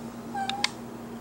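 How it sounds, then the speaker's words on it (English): A small indoor cat lets out one short, rising meow close by, with a faint steady hum in the background and no talking. "What do you think, little cat?"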